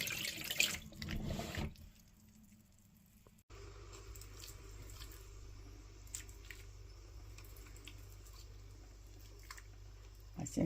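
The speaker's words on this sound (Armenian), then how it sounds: "Հիմա այս ջուրը սենց կթափեմ։" Washing water poured out of a large pot at a kitchen sink, soft sloshing and splashing, then a quieter gap, then a steady low running-water hiss with occasional drips.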